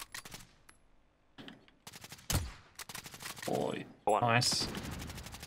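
Bursts of automatic gunfire crack through a Call of Duty Warzone match in Juggernaut Trios mode, with short volleys and a few louder close shots. A player talks briefly between the bursts.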